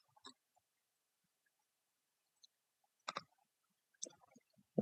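Faint, sparse clicks from a computer mouse in a quiet room, coming singly and in short clusters with long silent gaps between them.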